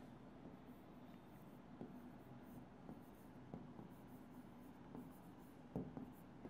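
Pen scratching steadily on paper while working through an accounting exercise on income tax and dividend payments, a quiet continuous scribble with small taps and strokes throughout, close to the microphone and with no talking.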